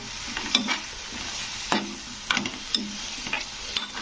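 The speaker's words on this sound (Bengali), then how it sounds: "সজনে ডাঁটা দিয়েও কিন্তু এভাবে একটু কষে নিতে হবে মশলাটার সঙ্গে" A spoon scrapes and stirs fried drumstick (moringa) pieces in a tomato masala, sharp clinks recurring every second or so over a soft steady sizzle in the pan.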